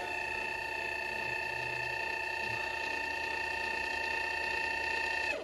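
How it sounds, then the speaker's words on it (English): Small 12-volt electric actuators run with a steady, faint mechanical whine holding an even pitch for about five seconds before cutting off. "I've got some actuators here."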